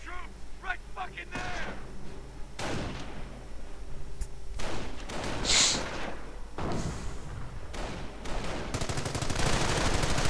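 Heavy gunfire and artillery from a World War II strategy game rattle and boom in repeated bursts and sharp blasts, with explosions and machine-gun chatter layered over continuous battle noise.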